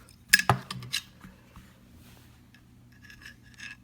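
AR-15 charging handle being slid back into the upper receiver, a couple of sharp metallic clicks and scrapes up close, followed by quieter light rattling and sliding of metal parts.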